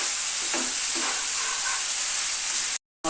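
Spice paste frying in oil for a fish curry, giving a steady close sizzle with faint stirring scrapes, cut off by a brief silence near the end.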